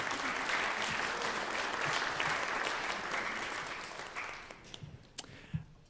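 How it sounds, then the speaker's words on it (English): Sustained applause from a concert audience at a Music Institute of Chicago concert band performance, a dense wash of clapping that gradually thins out into a few last claps. "So just a round of applause for them."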